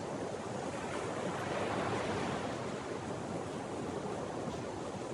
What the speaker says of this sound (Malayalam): കടലിൻ്റെ സംഗീതം ഒരു ഭയങ്കരമാണല്ലേ.